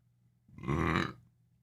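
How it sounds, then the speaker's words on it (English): A single loud, drawn-out burp from a man lasting about half a second, close to the mic with no talking over it. "I got a burp."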